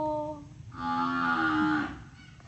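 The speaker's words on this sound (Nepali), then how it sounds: "अभी भैँसी कराएको" A single long, loud moo from a buffalo rises and falls over about two seconds, close by.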